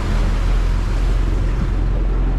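Strong ocean waves slam against a boat on rough seas on its way back to home port, making a loud, continuous roaring wash of water and wind with no talking.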